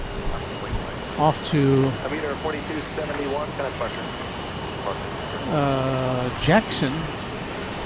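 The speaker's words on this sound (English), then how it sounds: "An Embraer 145, and then United 4271 to Corpus Christi. Another Embraer 145." An Embraer 145 regional airliner roars steadily in the distance at Houston Intercontinental Airport, with a continuous engine rumble under close speech.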